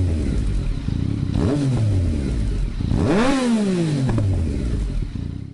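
A triple-cylinder motorcycle engine revs twice in strong, rising bursts, its distinctive exhaust note swelling and falling back over a steady, loud idle.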